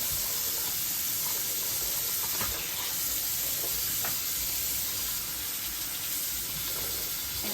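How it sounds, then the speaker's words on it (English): A bleach-covered glove is rinsed under running water from a tap, giving a steady close hiss and splash that continues evenly throughout with faint shifts as the glove moves. "So I'm gonna rinse my glove."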